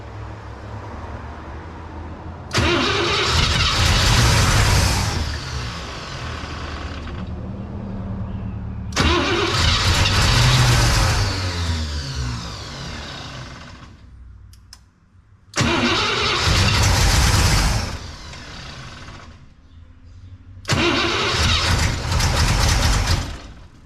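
A 1961 Cadillac engine on an old fuel tank cranks and catches four times in loud, close bursts, running briefly and then dying as it runs out of fuel, with gaps between attempts.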